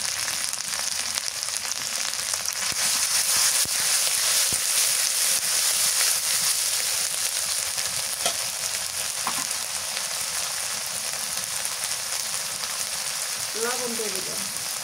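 Chili, garlic, onion, coriander and cumin pastes fry in a pan, giving a continuous rain-like hiss and sputter, close and fairly even, with a brief faint voice near the end.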